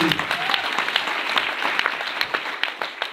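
An audience at a company seminar gives a loud round of applause, a dense crackle of many hands clapping. A few sharper individual claps stand out, and a voice is faintly audible beneath it.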